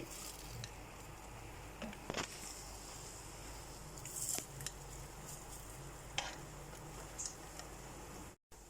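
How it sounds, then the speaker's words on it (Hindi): French toast fries in a pan with a steady, soft, close sizzle that hisses on throughout, broken by a few faint ticks and clicks. "अब इस साइड से भी हम 2 से 3 मिनट पका लेंगे"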